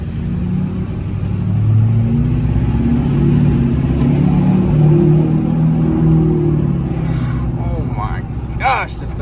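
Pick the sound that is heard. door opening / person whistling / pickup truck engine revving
pickup truck engine revving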